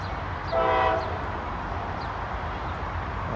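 A northbound Norfolk Southern mixed freight train on the Dayton District at Lockland, Ohio sounds a brief horn blast, a short steady chord that stands out over faint distant rail rumble and background noise.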